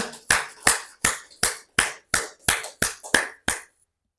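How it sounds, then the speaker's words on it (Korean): A church congregation claps in unison, ten sharp, evenly spaced claps in a steady beat, moderately close, ending in silence. "그러한 그분께 영광의 박수 한번 다시 한번 올리면 좋겠습니다"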